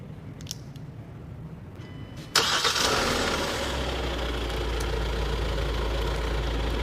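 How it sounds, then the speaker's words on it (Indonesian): A 2021 Hyundai Staria MPV's engine is started by remote and cranks to life with a sudden loud catch, then settles into a steady, low idle rumble. "Bisa menyalakan mesin dari jarak jauh."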